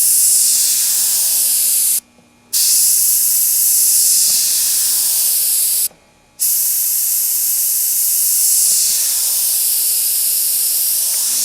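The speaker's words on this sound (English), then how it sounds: "My airbrush is working fine." Airbrush hissing white paint in long steady bursts, loud and close, broken by two brief pauses as highlights go onto the top and bottom bevels of a beveled edge.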